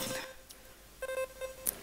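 A mobile phone ringtone chirps in short melodic beeps, a few bright tones starting, pausing, then repeating in quick bursts at low volume in a comedy sketch setting.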